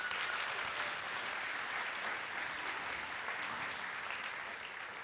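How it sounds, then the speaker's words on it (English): Graduates at a 2013 culminating ceremony are applauded by an audience, a steady wash of clapping that stays even and moderately distant throughout. "All of you deserve a round of applause for being the cream of the crop."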